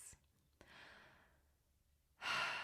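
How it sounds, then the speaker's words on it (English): Slow breaths from a guided chakra meditation exercise: a soft, drawn-out exhale, a quiet pause, then a louder, airy breath close to the microphone. "Breathing at your own pace."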